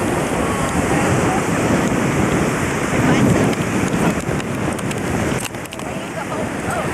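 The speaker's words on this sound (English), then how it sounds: "Got a lot of wind here." Strong wind buffeting the microphone at Pebble Beach, with the wash of surf beneath it, a loud, continuous rushing roar that dips slightly near the end, and voices faintly mixed in.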